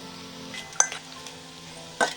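Finely chopped potatoes fry in a pan with spices, giving a soft, steady sizzle. Two sharp utensil clinks against the pan stand out, one early and one near the end, heard close and fairly quiet.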